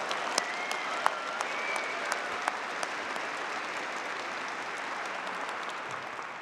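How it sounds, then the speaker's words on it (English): Loud, steady applause from a large Clemson University graduation ceremony audience, a dense, continuous wash of clapping with a few sharper individual claps, sustained for several seconds without letting up. "will you please give a big, loud round of applause to Ansley"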